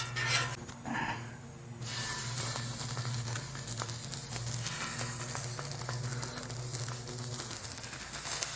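Beer brats hiss and sizzle on an oiled, multi-burner griddle at low heat, a dense steady frying crackle that swells in after a brief quieter moment and keeps going.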